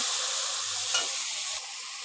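Spice masala for an egg curry fries in a pan, giving a continuous close sizzle with a brief scrape of stirring, fairly loud and without voices.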